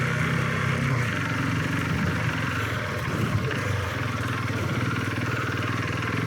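KTM 690 Enduro R single-cylinder motorcycle pulling hard in first gear off-road, a steady droning engine note with constant wind and road noise throughout, heard from a following distance without a break.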